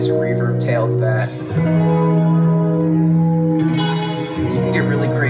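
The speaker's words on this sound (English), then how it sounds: "Add a nice reverb tail to that." Sustained electric guitar notes drenched in reverb from a Roomworks plugin, each chord ringing out into a long, washy tail, loud and up close.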